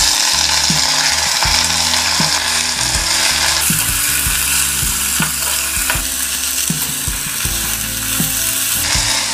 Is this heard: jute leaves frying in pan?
yes